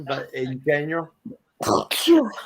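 A sharp, explosive sneeze bursts out right after a few spoken words, followed by more talking close by.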